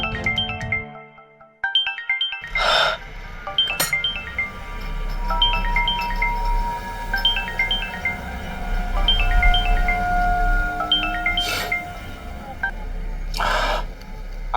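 A phone rings with a repeating electronic ringtone melody, steady tones recurring across the span amid a low background hum, placed to reach someone in an Indian crime drama scene.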